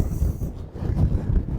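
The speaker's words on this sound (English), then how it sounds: "quite windy back here behind this taller building" Gusty wind buffets the microphone in an alley behind a tall downtown building, with low rushing and roaring swells rising and falling over a short stretch and no other sounds standing out.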